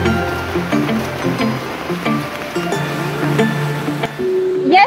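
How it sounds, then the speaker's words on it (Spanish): Steady heavy downpour near the El Gran Cañón waterfall in the Amazon region of Napo, Ecuador, a dense continuous roar of rain and falling water that stays loud and unbroken throughout. "nos cogió un fuerte aguacero"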